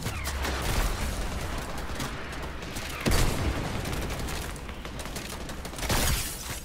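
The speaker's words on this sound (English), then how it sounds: "We're getting shot." Gunfire in the video game Fortnite: dense, loud bursts of rapid shots that run almost without a break and swell in a few heavier volleys.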